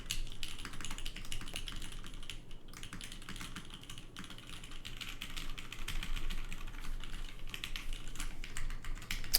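Someone types continuously on a GODSSON Dark Ex Ecliptica custom mechanical keyboard, producing close, crisp clacking in a fast, even rhythm that briefly pauses, with no voices.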